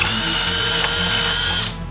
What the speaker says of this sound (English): And I'm going to now drill a hole